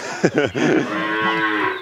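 A cow moos close by on a small dairy farm, a single long, loud bellowing call that holds steady for nearly two seconds with no talk over it.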